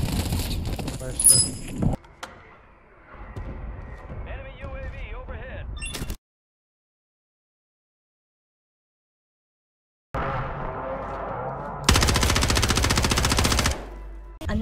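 Video game gunfire crackles in quick automatic bursts, loud and close, broken by a few seconds of silence before resuming; a voice talks in between.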